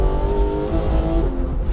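A Porsche 991 GT3 engine revs hard on the move, a loud, close, continuous high-pitched motorsport howl that holds steady with a slight rise, and nobody speaks.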